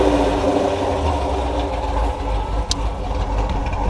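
A Dodge R/T with an aftermarket cam idles, its exhaust giving a deep, loping rumble that rises and falls unevenly and keeps going throughout, heard close and loud with no speech.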